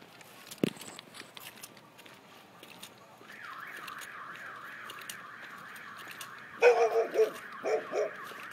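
Dogs at an outdoor festival give a few sharp barks and yips near the end, following a single loud knock early on, over a rising and falling alarm-like tone and faint background chatter.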